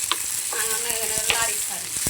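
Red spinach for a Bengali bhaji sizzles in a pan while a utensil stirs it, with scraping clicks and clatters over a steady frying hiss.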